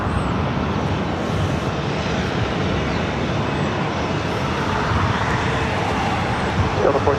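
A Southwest airliner in Canyon Blue livery passes at LAX, a loud, continuous jet roar filling the whole stretch with no clear rise or fade.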